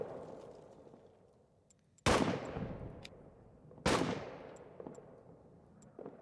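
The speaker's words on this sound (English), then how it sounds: "We're in basically the open as we're getting shelled." Two heavy artillery shell blasts land a couple of seconds apart in the WWI trench-warfare game All Quiet in the Trenches, each a loud, sudden boom with a long rumbling decay over faint background crackle.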